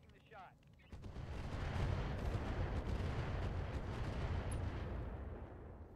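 Heavy weapons fire from battle mechs in the video game RogueTech, a loud sustained rumbling barrage of blasts and impacts that swells after a brief quiet start and continues steadily.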